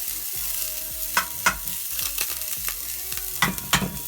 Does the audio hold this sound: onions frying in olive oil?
yes